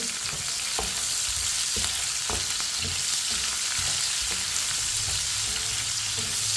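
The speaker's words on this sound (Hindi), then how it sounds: "चम्मच चलाते हुए प्याज को हल्का सा फ्राई करें" Onions fry in a pan with a steady close sizzle while a spoon stirs them, its scrapes and taps against the metal coming in an irregular rhythm.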